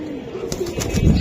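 A racing Giribaj pigeon with a purple neck coos briefly and close up, a couple of soft throaty pulses over faint background noise in a pigeon market.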